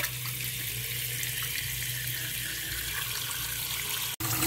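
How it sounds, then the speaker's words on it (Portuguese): Tap water runs steadily into a sink while sago pearls are rinsed by hand, a close, even rushing splash that continues without a break and ends in a brief cutoff. "E assim vai enxaguando o sagu, tira todo o glúten dele"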